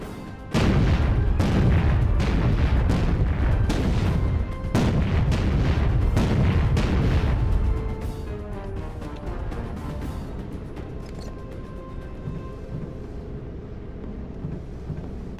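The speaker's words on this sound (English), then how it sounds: "We're coming under enemy fire." Enemy fire and explosions in the video game Battlestations Pacific pound out as a rapid series of loud, heavy booms for several seconds, then thin into a softer rumbling tail with scattered distant hits.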